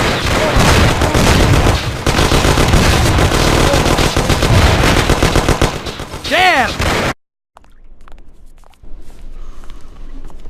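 Gunfire in a Mafia video game shootout: loud, dense, continuous bursts of rapid shots with booming impacts and a whistling sweep near the end, then a sudden silence before quieter background noise returns, with shouted voices in the mix.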